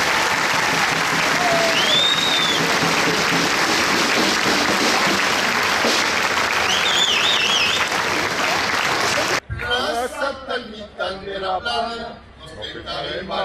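A crowd applauds loudly during the Sunday procession of the 2022 Bessan festival, with continuous clapping and a few whistles, before a voice begins speaking near the end.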